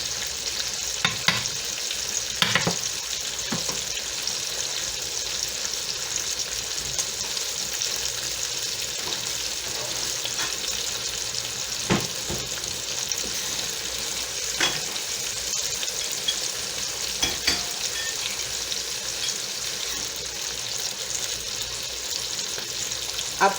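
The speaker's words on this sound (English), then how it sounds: "So now I'm just stirring it up" Food sizzles and fries steadily in a pan over a stove fire while being stirred, with occasional sharper scraping clicks from the utensil over a constant hiss.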